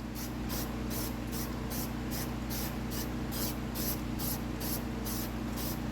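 Aerosol can spraying a first backer coat of paint onto the inside of a clear Lexan RC car body, heard as a steady close hiss broken by regular short pulses from repeated passes, with no talking.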